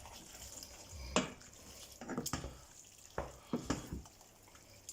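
Minced meat pasta sauce stirred in a pan, with a few soft wet squelches and scrapes in irregular bursts over a quiet simmering background.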